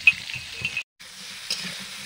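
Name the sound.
vegetables frying in a pan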